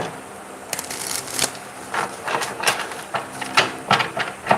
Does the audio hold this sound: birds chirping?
no